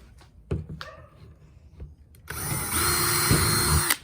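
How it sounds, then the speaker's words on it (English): After a few clicks and handling knocks, a power drill whirs loudly and steadily for about two seconds, its motor pitch shifting slightly as it bites into PVC or ABS pipe. "Let's drill out the ones for the 2-inch."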